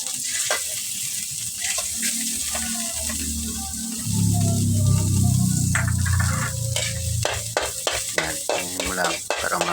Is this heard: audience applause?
no